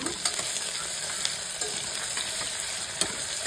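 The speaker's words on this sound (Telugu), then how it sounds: "ఉల్లిపాయలు పచ్చిమిరపకాయలు ఇలా వేగిన తర్వాత" Sliced onions and green chillies frying in a pan with curry leaves give off an even, close sizzle, with occasional faint ticks from stirring.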